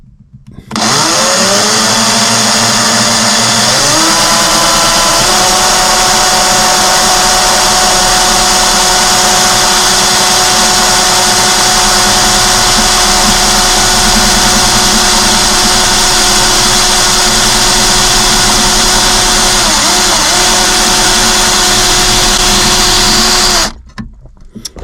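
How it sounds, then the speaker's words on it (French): Power drill boring through a Volkswagen Transporter T5/T6 body panel, a loud continuous whine that steadies as the bit bites, held for about twenty seconds before stopping abruptly. "En fait, faut attendre que ça se perce tout seul, faut pas trop appuyer."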